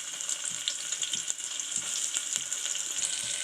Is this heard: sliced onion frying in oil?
yes